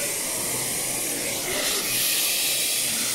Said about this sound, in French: on lâche les doigts de la vapeur pour récupérer le surplus d'eau